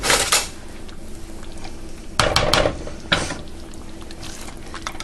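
A ladle and serving bowl handled in a home kitchen, with sharp metallic clinks and clattering knocks in a few distinct bursts over quiet background hum.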